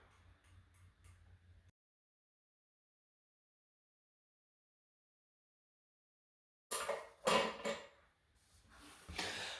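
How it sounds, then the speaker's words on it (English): A brass washer set over a plastic washer on a toilet T-bolt gives a few small metallic clicks and taps close by, after a stretch of near silence. "then I'm going to put the brass washer over it"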